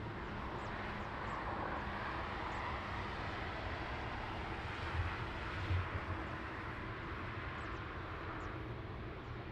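A TAP airliner from Brussels arriving at Lisbon Airport on a rainy morning, a broad steady jet roar heard from a distance with a slight swell midway.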